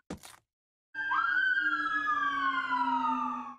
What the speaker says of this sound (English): Oh, cop car.